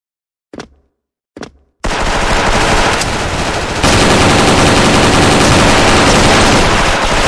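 Dragon G36C rifle in the shooter game Special Force, two short single shots followed by sustained rapid automatic bursts, loud and close, growing heavier partway through, with no talking.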